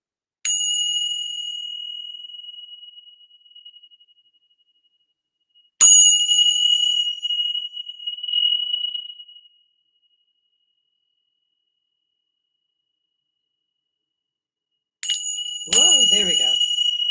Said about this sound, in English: I'm going to just clear the room with my Tibetan bells